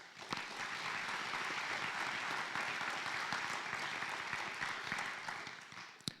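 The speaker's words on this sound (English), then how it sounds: "Let's please give them a round of applause." Steady, fairly loud applause from an audience at a Keene High School special recognition night in 2024, sustained clapping filling the room for about six seconds without talk.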